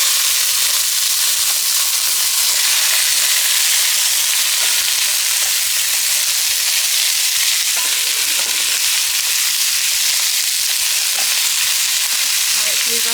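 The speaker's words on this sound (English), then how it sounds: "So the first thing I'm going to do is I'm going to add the tomato." Chopped tomatoes sizzle as they hit a hot pot for pork sinigang soup, a loud continuous frying hiss up close with faint stirring scrapes and clatter underneath, no one speaking.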